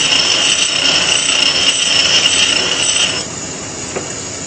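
A drill bit's short cutting flute ground on a bench grinder to even out its lip lengths, a steady close high whine with grinding hiss that cuts off sharply near the end, leaving a quieter hum.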